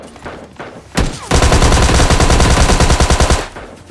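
A weapon in the Free Fire battle-royale game fires a single shot, then after a brief pause unleashes a loud, rapid automatic burst of evenly spaced rounds lasting about two seconds before cutting off.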